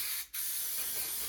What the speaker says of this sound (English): and then I'll spray the rest of the panel